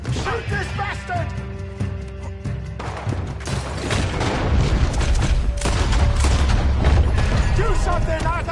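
Gunfire and booming blasts in Red Dead Redemption 2, shots cracking in quick succession and growing heavier toward the end, mixed with game music and character voices talking.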